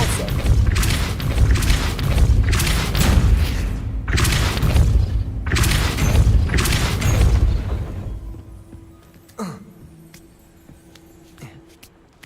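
Depulso force spell cast in the game Hogwarts Legacy: a series of heavy booming thumps at a steady beat, followed by a quieter sharp impact and fading rumble.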